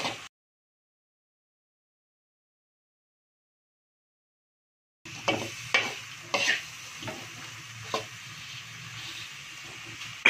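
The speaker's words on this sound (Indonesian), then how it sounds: "Jadi kita adakan pengadukan." Duck with bay leaves is stirred in a hot pan after a silent stretch, giving a steady sizzle with several distinct scraping, clattering stirs of the utensil.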